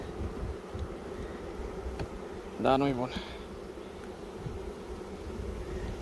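Honeybees drone steadily at an open hive during a queen and brood inspection while flowers bloom, a close low buzz running throughout under a brief spoken remark midway.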